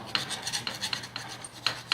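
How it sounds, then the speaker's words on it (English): Brass end connectors of a stainless steel flexible plumbing hose being filed, a close, steady rasping of repeated file strokes at a quick, uneven rhythm, heard alone without talk. "when you file the connectors"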